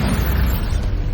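A Bombarda spell explosion in Hogwarts Legacy, a loud, close blast with a thick low rumble that holds steadily through the brief moment.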